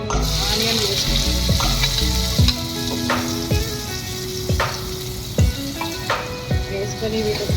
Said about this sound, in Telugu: ఇప్పుడైతే ఆయిల్ అయితే వేడెక్కిందండి, దాంట్లో ఆనియన్ వేసుకుంటాం.